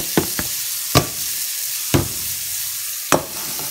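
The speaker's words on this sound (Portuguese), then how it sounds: "Fritar a cebola. Até ficar douradinho." Onion frying in butter for a morning zucchini omelette gives a steady crackling sizzle, broken by a few sharp utensil clicks and scrapes against the pan.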